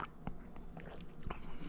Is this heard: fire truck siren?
no